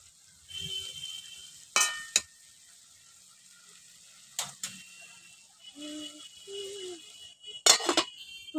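Bitter gourd, potato and eggplant mixed with mustard paste in a pan, a faint sizzle broken by several sharp scraping, ratcheting strokes of the spoon against the pan, close and intermittent, no talking.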